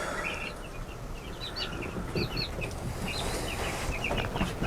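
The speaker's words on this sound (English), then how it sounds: "we've got our third batch of meat birds." Meat chickens on a homestead field make a steady chorus of soft clucks and chirps, many birds calling at once at moderate distance over constant outdoor background noise.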